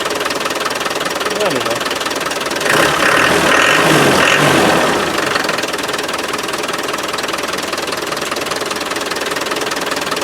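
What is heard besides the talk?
Land Rover 300Tdi diesel engine with fuel supply problems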